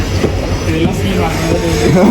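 A train runs on the railway close by, giving a loud, steady rumble and rolling wheel noise throughout, with a voice talking over it.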